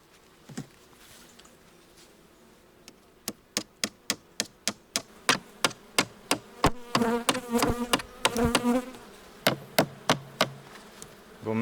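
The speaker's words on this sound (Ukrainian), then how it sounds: "Зараз треба забити, щоб рамки не з'їхали з свого місця." Beehive frames are nailed in place to keep them from shifting, with a long run of sharp, evenly spaced hammer blows close by and a buzzing of bees beneath them.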